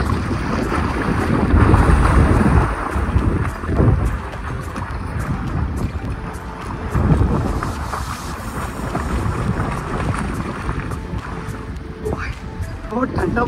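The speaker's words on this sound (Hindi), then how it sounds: "और हवा चल रही है बस," Wind at a riverside campsite near Rishikesh, a loud gusty rush buffeting the microphone with rushing water underneath, continuous and close, while someone talks over it.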